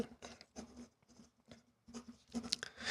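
Pen scratching across paper as a suggestion is jotted down during a photography discussion, several short bursts of scribbling with brief pauses between strokes, close and fairly quiet.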